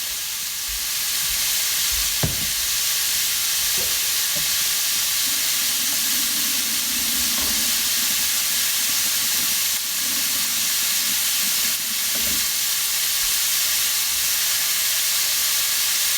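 Thinly sliced steak for Philly cheesesteak sizzles steadily in a hot pan, with a continuous close frying hiss throughout and a few faint clinks of utensils, no talking.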